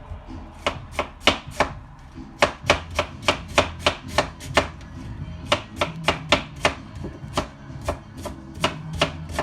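A knife roughly chops vegetables for fermenting on a board, sharp close thuds in quick uneven bursts, about two or three per second, with short pauses between runs.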